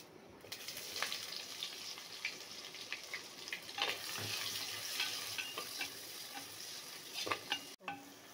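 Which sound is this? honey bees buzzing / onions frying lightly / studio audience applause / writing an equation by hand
onions frying lightly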